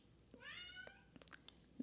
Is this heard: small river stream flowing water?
no